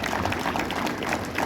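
Applause from a crowd at a school sports day, dense, steady clapping filling the whole stretch, moderately loud and even, with no pauses.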